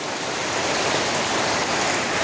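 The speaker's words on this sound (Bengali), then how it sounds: "এই যে বৃষ্টি।" Steady rain falling in a village, a dense continuous hiss of drops on surfaces throughout, fairly close and even in loudness with no voices.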